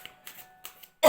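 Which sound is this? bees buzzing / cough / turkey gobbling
cough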